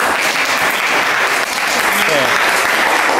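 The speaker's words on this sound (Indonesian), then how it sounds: "berikan tepuk tangan dulu" Classroom applause as students clap together, a loud, steady patter of many hands that briefly dips midway, with a voice speaking faintly under it near the end.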